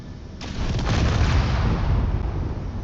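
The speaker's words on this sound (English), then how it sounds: "Another bigger boom." A large rocket blast sounds as a sudden deep boom that swells into a sustained rumbling roar, loud and lingering and heard alone.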